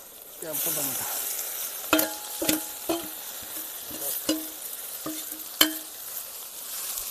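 Chopped tomatoes fry with ginger and garlic in a pan, a soft steady sizzle broken by a series of sharp, close clinks and scrapes as a spoon stirs them.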